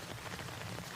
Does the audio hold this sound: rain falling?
yes